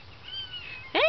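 Two-week-old kitten giving a single short, high, thin meow at the very end, close and clear after a quieter stretch of faint tonal sound.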